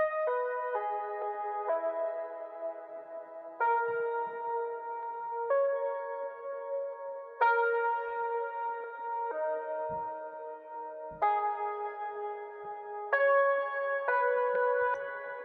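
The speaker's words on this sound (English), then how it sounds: "I laid down the main melody using a Rhodes." A Rhodes electric piano plays a smooth R&B-style melody in sustained notes and chords, processed with effects, coming in clean phrases that swell and fade across the passage with nothing else underneath.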